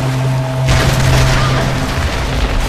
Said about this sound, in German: Wieder eine Explosion.